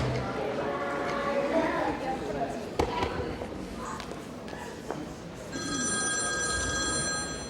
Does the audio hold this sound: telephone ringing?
yes